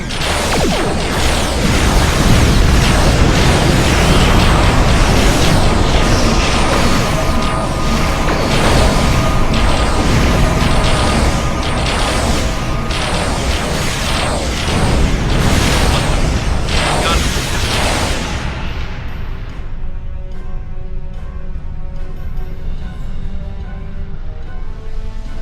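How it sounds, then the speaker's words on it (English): Starship weapons fire and explosions in a sci-fi space battle rumble loudly and continuously for about eighteen seconds with repeated booming bursts, then cut off into a quieter droning tone. "Computer, arm all weapons and"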